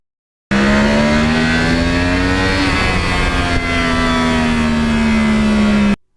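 A Yamaha R1 crossplane sportbike engine accelerates hard up close, its loud rising whine climbing through the revs, dipping briefly at a gear change, then pulling steadily upward again with no talking.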